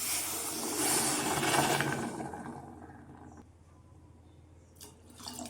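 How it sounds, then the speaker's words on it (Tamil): Water gushes and splashes into a pan of wheat flour halwa for a couple of seconds, then tapers into quieter trickling and soft clinks. "இப்போது தண்ணி சேர்த்துக்கலாம்."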